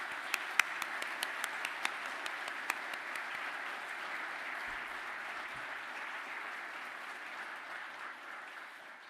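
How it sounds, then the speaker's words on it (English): Applause from families and friends at a graduation ceremony, a dense steady clapping from a large indoor crowd, with a few sharp nearby claps standing out at the start before it settles into an even wash. "give a round of applause to those who have supported to help you get you here today"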